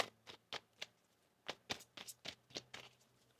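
Tarot cards being shuffled by hand during a reading, a series of crisp, brief riffling bursts at an irregular rhythm, close and fairly quiet, with no talk over them.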